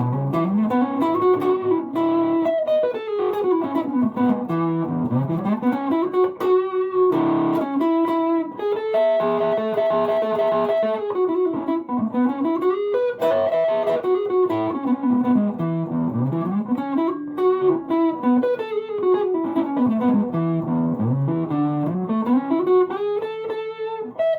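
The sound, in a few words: electric guitar through overdrive pedal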